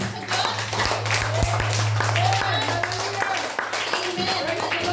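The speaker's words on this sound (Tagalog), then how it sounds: "Palakpakan mo natin ang ating Panginoon." A church congregation claps for God in praise, dense sustained applause with a steady hum underneath and voices talking over the clapping throughout.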